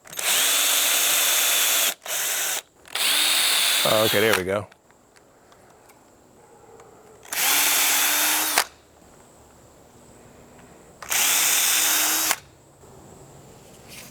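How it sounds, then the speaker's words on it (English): A power drill bores holes in a garden bed among tomato plants, three loud whirring bursts of a few seconds each with quiet gaps between, and someone speaks briefly between them. "let's see if we can drill some holes"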